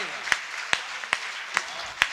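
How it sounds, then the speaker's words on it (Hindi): Audience at an Indian Hindi-Urdu poetry recital (kavi sammelan and mushaira) in Meerut claps in a loose, roomy wash, with five sharper individual claps standing out at a steady rhythm. "एक बार ताली बजा के मेरा सम्मान।"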